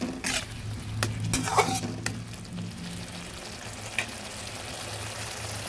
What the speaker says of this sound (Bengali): এবার ভালোভাবে নেড়ে নেব।